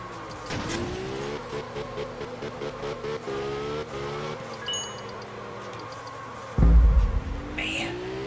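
A car drifting in the Absolute Drift video game, its engine droning and rising and falling in pitch through slides, with a hard crunching impact near the end, close and steady.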